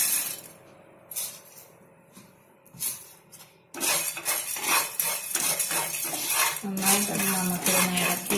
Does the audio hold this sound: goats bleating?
no